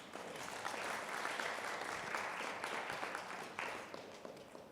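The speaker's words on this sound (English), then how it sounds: "Round of applause for you" Applause from attendees closing a session on assistive technology in Africa, a dense, continuous clatter of many hands that swells slightly in the middle and stays fairly full to the end.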